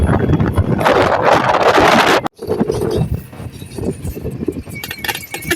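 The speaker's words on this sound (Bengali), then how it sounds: "ভ্যানে খুব বাতাস খুব জোরে বয়" Strong wind buffets the microphone on a moving van travelling a road between Chuknagar and Bagerhat, a loud rushing roar that cuts out briefly and then returns in gusts.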